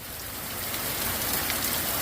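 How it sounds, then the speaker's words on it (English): Heavy rain pours steadily onto a Kodiak two-person tent, a dense, constant hiss and patter close overhead that builds slightly in strength, with no voices. "it is pouring bad."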